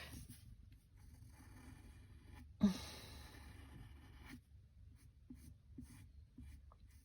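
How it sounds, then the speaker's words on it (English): Pencil sketching a circle on paper for a two-point perspective drawing, a soft continuous scratchy scrape running close and steady across the paper with one brief sharper knock partway through, no talking. "so I need to make my circle, sketch it in"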